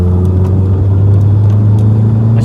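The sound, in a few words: 1984 Vauxhall Cavalier engine accelerating while driving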